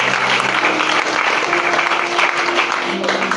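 A church congregation applauding, dense steady clapping from many hands filling the room without a break, with faint voices mixed in.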